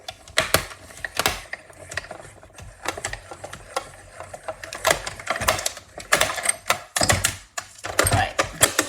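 A small hand-cranked cut and emboss machine feeding paper through its rollers, giving a steady run of close mechanical clicks and ratcheting gear noise, uneven in pace, with no talk.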